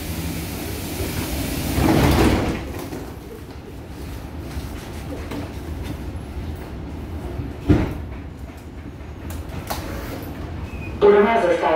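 Sliding doors of an M3 line metro train thud shut inside a carriage, with a firm knock near the start and another midway, over steady rumbling train noise and a brief voice at the end.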